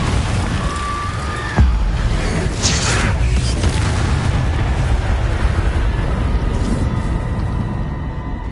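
Confringo spell explosion in the Hogwarts Legacy video game, a loud booming blast with a sharp onset followed by a rumbling roar that carries on through the clip, mixed with game effects.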